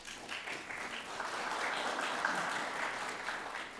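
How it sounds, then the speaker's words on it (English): Steady applause from an audience at a county employee service award ceremony, a continuous wash of many hands clapping at moderate volume that holds evenly throughout without pause. "Don't be shy with your applause to celebrate these wonderful employees."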